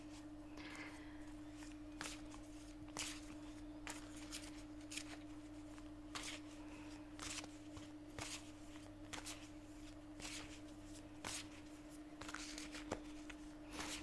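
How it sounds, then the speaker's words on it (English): Soft, intermittent riffling and tapping of tarot cards repeats at a steady pace over a quiet electrical hum, with no voices. "So I'm just going to shuffle the cards now."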